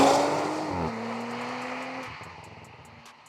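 An Audi RS car accelerating hard from a standstill toward 60 mph on a slightly greasy day, its engine note climbing then dropping at a gear change and climbing again, loud and close with no talk over it.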